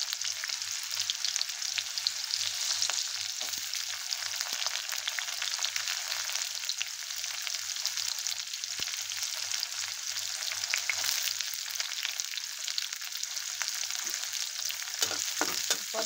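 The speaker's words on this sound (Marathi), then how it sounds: "कांदा टाकून घेतला." Chopped onion frying in oil in a pan for kaju curry, a steady, even sizzle with faint crackles and occasional stirring scrapes, continuous and close, no voices.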